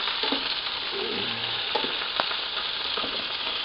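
Cauliflower frying in a pan sizzles steadily and up close while being stirred, with scattered scrapes and clicks over the continuous crackle.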